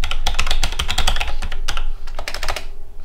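Rapid keystrokes on a computer keyboard while a username is entered during OctoPrint setup for a 3D printer, a dense run of close, crisp clicks with brief pauses, alone without talk.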